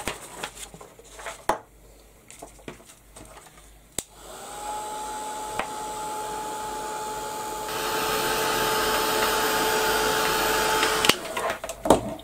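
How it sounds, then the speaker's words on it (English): A heat embossing tool blows steadily for about seven seconds, a loud, even whoosh that starts abruptly, grows slightly louder partway through, and cuts off, preceded by a few handling clicks and taps. "I'm going to emboss it now."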